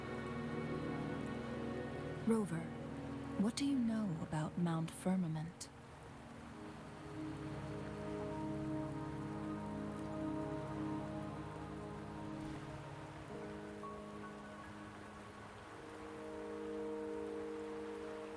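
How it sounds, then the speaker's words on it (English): Steady rain falls on surfaces on Mount Firmament in a video game, soft and continuous beneath game music, with a character's voice speaking over it early on. "Don't worry, the rain won't last much longer."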